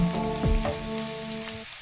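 Chopped onions frying in a pan for egg bhurji give a steady, close sizzle with no talking over it.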